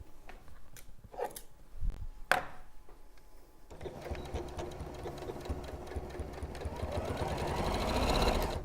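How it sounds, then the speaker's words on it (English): A sewing machine stitching around a secret pocket, starting with a few handling knocks and then running in a steady whirring hum of rapid stitches that grows gradually louder, close up and with no talk. "I'm going to sew all the way round"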